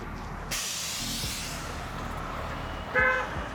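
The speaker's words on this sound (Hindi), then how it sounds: "हाँ देखो थोड़ा सा हवा निकल गई," Air hisses steadily out of a BMW R1300GS motorcycle tyre, a continuous broad rush of sound, with a brief horn toot near the end.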